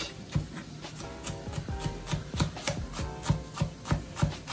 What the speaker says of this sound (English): Now we're gonna cut up the veg.